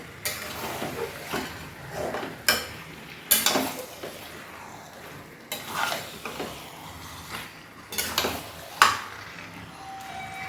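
Chicken being sautéed in a covered pot, a low sizzle broken by repeated clanks of spoon and lid against metal cookware, several sharp knocks spread across the span, near and without talk.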